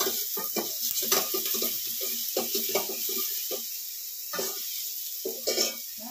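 Chicken kebab pieces fry in hot oil with a steady hiss, broken by repeated stirring scrapes and clattering knocks in an irregular rhythm, close up and fairly quiet.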